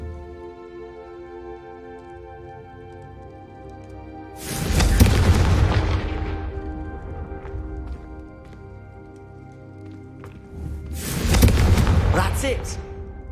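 A Confringo fire spell blasts in Hogwarts Legacy, two loud booming explosions several seconds apart, each with a crackling fiery tail that fades, over a steady tonal background.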